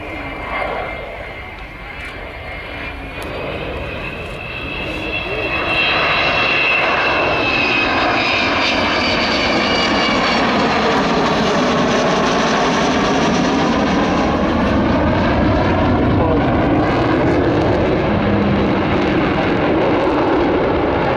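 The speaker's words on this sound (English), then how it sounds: "the man in charge in the aircraft on the far side of the airfield, Vulcan XM607" Avro Vulcan XM607 bomber flying past at Waddington airfield, its engine roar swelling from distant to loud and holding as a powerful, rising and falling drone, with a commentator's voice faintly under it at the start.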